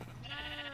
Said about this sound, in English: And we got sheep, so we've got a full-fledged farm.